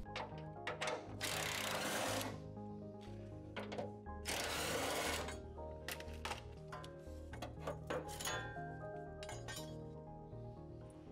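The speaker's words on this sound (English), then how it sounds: "Use a 10mm socket to remove the fuel filter." A 10mm socket wrench removes the fuel filter from a car, producing bursts of rapid metallic ratcheting and sharp clinks at close range, with quieter taps and clicks between them.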